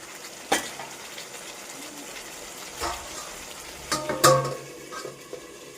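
Vegetables coated in spice paste fry in a pan with a soft, steady sizzle, while a spatula scrapes and clinks against the pan in a few brief stirring strokes.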